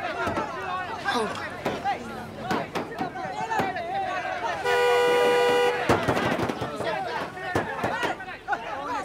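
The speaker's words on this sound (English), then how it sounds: "Honk at them." A vehicle horn blares once in a sustained honk of about a second amid loud, overlapping voices and commotion near a gate.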